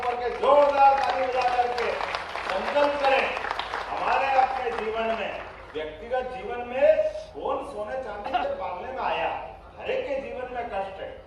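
A crowd at a Maharishi Valmiki Jayanti gathering in Bhopal claps loudly with both hands raised, a dense, sustained applause that swells and dips while a voice speaks over it.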